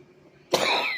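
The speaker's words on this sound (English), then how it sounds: "I'm coughing." A single sharp cough bursts out after half a second of near silence, close and loud, trailing into a rough breathy tail.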